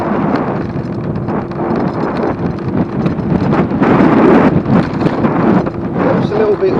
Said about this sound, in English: It's a little bit windy, like I say, it's not too cold.